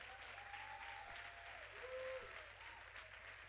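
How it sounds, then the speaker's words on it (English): An audience gives a steady, sustained round of applause for military families, a dense patter of clapping filling the room from start to finish, with faint voices mixed in. "let's give them a round of applause too"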